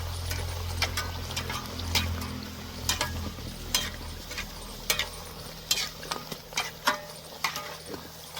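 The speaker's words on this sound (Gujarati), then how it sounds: "આપણે પૂરી તળવા મૂકી દઈશું" Puri frying in hot oil, a continuous sizzling bed with repeated crisp clicks and taps from handling in the pan, close up and fairly quiet, no talking.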